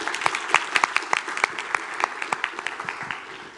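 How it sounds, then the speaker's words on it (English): Sparse, uneven clapping from a pitch-event audience in Thailand, applauding the judges, with distinct individual claps rather than a dense roar, at moderate distance and fading slightly toward the end. "Let's give our judges a round of applause."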